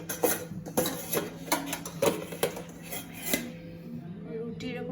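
Roasted eggplant being mashed for begun bharta in a home kitchen, sharp clinks and taps of a utensil against a metal dish in an irregular rhythm, close and moderately loud, easing into softer scraping at the end.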